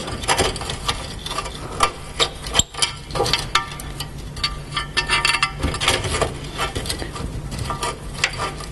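Tightening bolts on a Land Rover Discovery 2 TD5 rear cross member, with dense, busy ratcheting clicks and metallic rattles close by, repeating in uneven bursts over several seconds.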